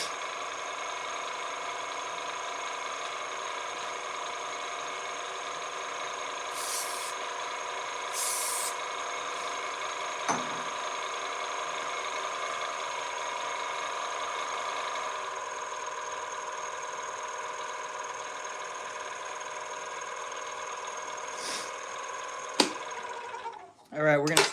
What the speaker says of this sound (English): My lathe is making some sounds tonight.